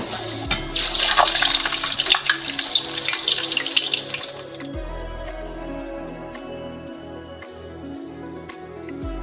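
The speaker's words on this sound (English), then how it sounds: "And we deep fry them." Fork-pierced potato chips drop into hot oil for deep frying, starting with a loud, bubbling sizzle that settles after a few seconds into a softer, steady hiss, with no voices.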